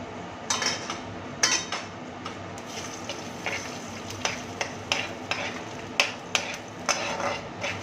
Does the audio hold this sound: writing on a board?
no